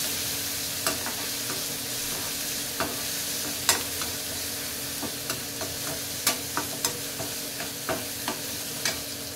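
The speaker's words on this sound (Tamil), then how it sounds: "நல்லா எண்ணெயிலே வதக்கணும்." Garlic sautés in oil with a steady close sizzle, while a spatula stirs and scrapes the pan in a string of sharp clicks every half second or so.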